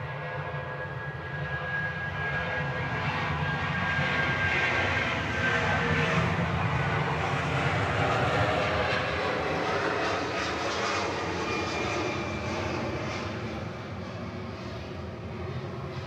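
A jet airplane roars steadily at Honolulu airport, a broad sustained rumble that swells slightly and then holds, heard from a moderate distance with no voices.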